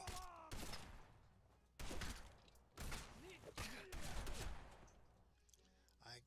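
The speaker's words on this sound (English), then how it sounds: "Nick started shooting me" Gunfire in the Fallout 4 video game as Nick shoots, several loud sharp bursts in irregular clusters with brief gaps between them and some voice mixed in.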